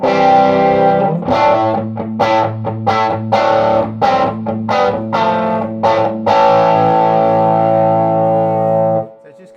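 An electric guitar through a Todd Sharp JOAT 20 amplifier with slight breakup rings out a sustained chord, then a quick run of separate picked notes, then another ringing chord that fades out.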